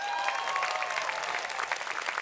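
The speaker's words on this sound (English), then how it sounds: "A round of applause." Audience applause at a college commencement ceremony, steady dense clapping from a large crowd that sustains at even loudness throughout without pause.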